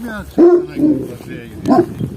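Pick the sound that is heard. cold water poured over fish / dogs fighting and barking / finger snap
dogs fighting and barking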